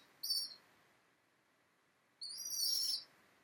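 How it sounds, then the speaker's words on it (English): Pet cockatiel giving two short, high-pitched calls at close range, the second longer and more insistent, with a quiet pause between and no talk. "That's a good bird."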